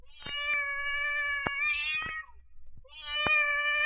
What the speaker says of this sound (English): a black cat yowled